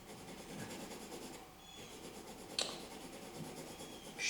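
Pencil shading a drapery drawing on paper: quiet, steady rubbing strokes continue throughout, with one sharp tick partway through.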